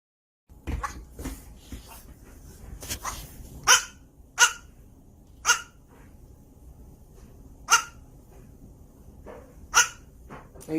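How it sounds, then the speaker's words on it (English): A dog barks in sharp, separate yelps spread across the scene, with soft whimpers and breathing between them, close by and fairly loud, with no talking over it. "Are you barking?"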